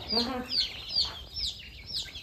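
Guinea fowl call on a farm in a series of about five sharp, harsh, high-pitched cries in quick succession at moderate distance, with faint background sound.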